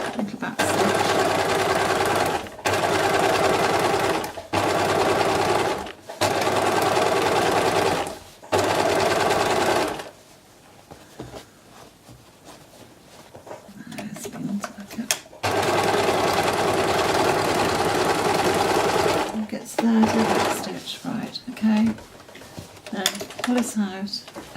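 A sewing machine stitches a seam on a beach bag in several loud, steady whirring runs separated by short stops, with quieter handling and a voice talking during a longer break before stitching resumes.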